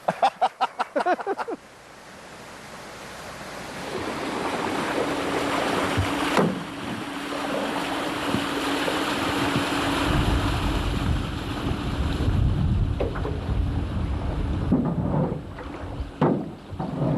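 A small waterfall on a Nebraska river, tucked off the main channel, pours in a steady rushing roar of broadband water noise that persists throughout, with a few brief knocks early on.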